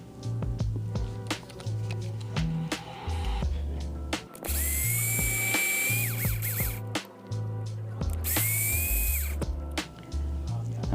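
A power tool removes four screws holding a transfer case together, giving repeated whirring bursts with high-pitched spinning whines, heard close over a steady background of music.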